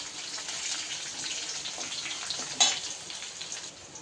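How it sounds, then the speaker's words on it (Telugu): Green chillies and curry leaves frying in hot oil in a pan, a soft, continuous sizzle with a sharp crackle and spit partway through, no voices. "పచ్చిమిర్చి, కరివేపాకు వేసుకోవాలి. ఇవన్నీ ఫ్రై అవ్వాలి."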